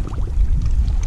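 A pike slipping back into lake water, a brief loud close splash and gurgle of churned water with low rumbling turbulence.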